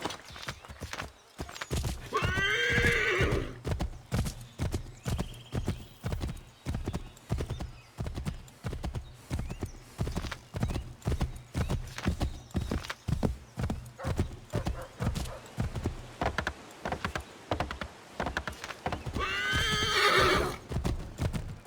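A horse in the Assassin's Creed III video game whinnies loudly near the start and again near the end, while brisk, evenly spaced hoofbeats clip-clop steadily throughout.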